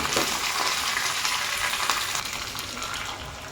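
Mustard seeds, curry leaves and long-cut green chillies sizzle in hot oil for a dhokla tempering, a steady loud crackling hiss with faint popping, no voices.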